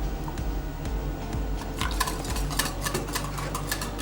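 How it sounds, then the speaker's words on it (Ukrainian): Scraping, clinking stir of pancake batter with oil in a bowl, a utensil knocking repeatedly against the sides, with denser clatter in the second half. "І ретельно розмішуємо."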